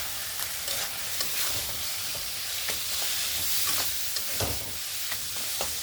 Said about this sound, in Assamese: মই কচুখিনি 1 পৰা 2 মিনিট টাইম ভালকৈ ফ্ৰাই কৰি ল'লোঁ